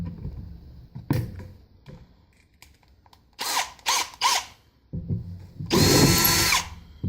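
A power drill bores holes through an acrylic turkey pot call blank in a woodturning workshop, with several separate loud bursts of whirring and cutting, short runs early, then longer grinding passes near the end.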